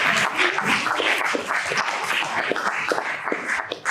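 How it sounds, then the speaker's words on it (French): Conference attendees applaud after a presentation: moderate clapping from a seated audience, steady and somewhat distant, with a few shuffles and taps mixed in. "Je pense qu'on peut les applaudir"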